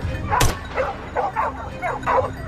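Hunting dogs bark and yip in quick, close bursts at a cornered massive wild boar, about five sharp, fairly loud calls in a row.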